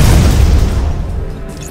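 A single heavy enemy gunshot in the video game Quake 4, a loud booming blast that rings out and fades over a second or two.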